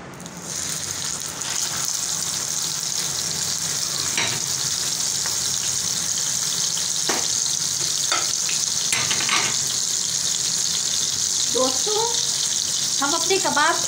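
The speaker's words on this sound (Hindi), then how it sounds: "हम अपने कबाब दो दो करके फ्राई कर रहे हैं।" Chapli kebabs of minced meat fry in a pan over a medium-low flame, giving a steady loud sizzle with occasional clinks and scrapes as they are turned, no talking.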